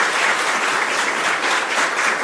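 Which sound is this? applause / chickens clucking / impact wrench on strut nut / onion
applause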